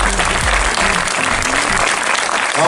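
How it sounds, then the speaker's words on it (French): A film premiere audience applauds Henri Desmoulins, a loud, dense burst of clapping filling the whole short stretch with no talk over it. "on va peut-être applaudir Henri Desmoulins"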